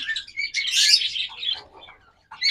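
Pet birds from a breeding pair kept for sale chirp in a dense, close burst of bright tweets, briefly fading into softer calls before one last sharp chirp.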